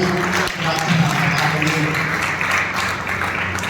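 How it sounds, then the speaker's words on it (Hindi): A church congregation claps together at a Sunday service, making a steady, dense wash of applause that runs the whole time with voices mixed in. "ताली बजा दो"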